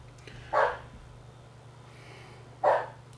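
A dog lets out two sharp, loud barks about two seconds apart indoors, with a low steady hum underneath and no talking.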